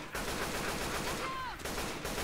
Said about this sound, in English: See that? I'm shooting it.